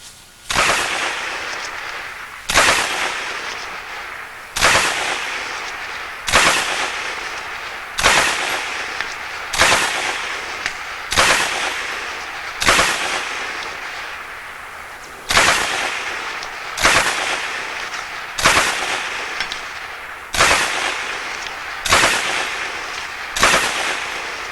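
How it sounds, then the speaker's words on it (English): A JD Jones SSK machine gun firing 1944 vintage tracer ammunition at 200-meter targets, loud sharp shots in a steady series of about fourteen evenly spaced reports, each with a short echoing tail, no talking. "Shooting tracers and stuff."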